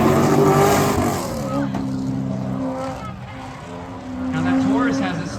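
A Ford Taurus fitted with a stage 3 turbo and cold air intake drag races at a spectator drag event, its engine droning loud and steady with rising and falling pitch, under an announcer's commentary.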